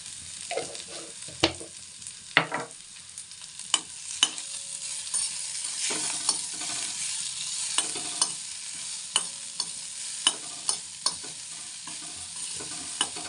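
Leafy greens bhaji cooking in a pan, with a steady soft sizzle under repeated scraping clicks of a spoon stirring, close and moderately quiet with no talking.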